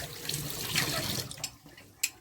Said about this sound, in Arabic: شطفها بس كده